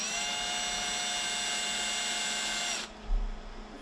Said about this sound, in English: I'm going to just start to drill this,